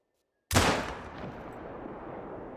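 A single hunting rifle shot in theHunter: Call of the Wild breaks a silent start with a sharp loud crack, followed by a long rolling echo that fades slowly.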